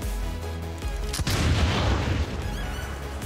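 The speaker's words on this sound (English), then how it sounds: "let's do the pistol shots" Gunfire from a pistol in the turn-based XCOM 2 War of the Chosen, a loud boom near 0.8 seconds and another sharp blast near 1.2 seconds with a dense rumbling tail, over steady game music.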